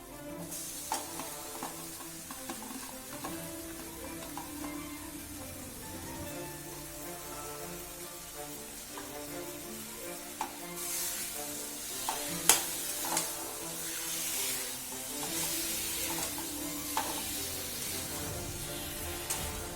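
Marinated chicken frying in a spice masala for Bengali chicken kosha, a steady close sizzle with stirring scrapes throughout that swells into a louder, brighter hiss in the second half, with no talking.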